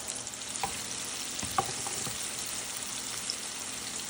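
Small beef meatballs frying quietly in a pan, a soft continuous sizzle with occasional faint pops and light utensil taps.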